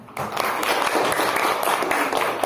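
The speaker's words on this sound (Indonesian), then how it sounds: "Tepuk tangan." A class in an Islamic religious education lesson breaks into dense, continuous hand clapping, loud and close, with many hands together for a couple of seconds.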